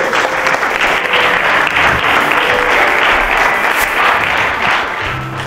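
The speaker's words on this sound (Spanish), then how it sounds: "dele un fuerte aplauso al Señor en esta preciosa tarde" A church congregation claps in loud, steady applause that fills the whole stretch, a dense wash of many hands with no clear gaps.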